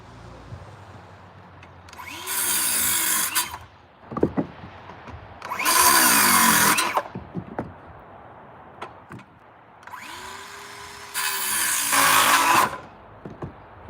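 A power saw cuts through pressure-treated firewood outdoors, hitting a nail. It makes three separate loud, buzzing cuts of one to two seconds each, with knocks and clatter of wood between them and no talk.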